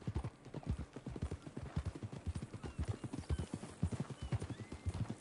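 Horse hooves clip-clop steadily in the Red Dead Redemption 2 video game on PS5, a close, brisk and even riding rhythm that runs without pause from start to end.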